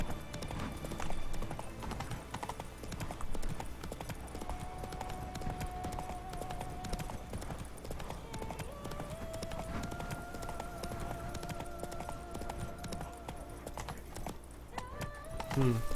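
Roach, the horse in The Witcher 3, gallops with a steady, rapid clip-clop of hooves that runs throughout, close and prominent, while game music tones drift underneath and a voice talks at times.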